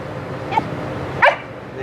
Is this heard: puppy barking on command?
yes